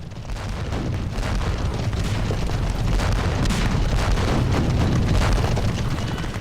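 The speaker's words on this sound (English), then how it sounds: "For a whole mile, the British cavalrymen ran a gauntlet of cannon fire" Cannon fire booms continuously in a war documentary depicting the Charge of the Light Brigade, a dense, loud, rumbling barrage of overlapping blasts with no clear gaps.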